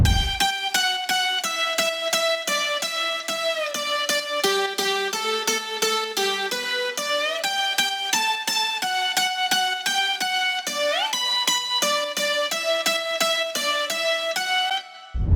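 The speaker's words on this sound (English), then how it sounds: "Guitar layers, synth layers and pluck layers." A layered progressive house lead of stacked guitars, synths and plucks plays a fast, bright melodic pattern of rapid repeated notes, loud and continuous with no voices.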